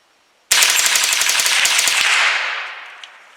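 Palmetto State Armory AR15 rifle with a binary trigger firing a loud, rapid string of shots at close range, each pull and release giving a round, about two seconds of steady fire before echoes fade.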